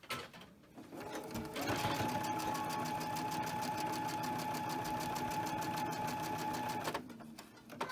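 A sewing machine stitches through quilting cotton in one steady, continuous run of fast mechanical chatter, close and loud, starting and stopping within a quiet room.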